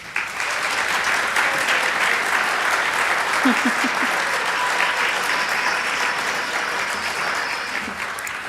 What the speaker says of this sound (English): let's have a big round of applause for our mentors